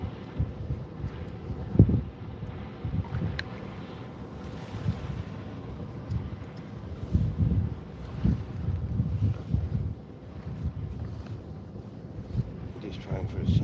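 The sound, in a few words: breezy wind outdoors while fishing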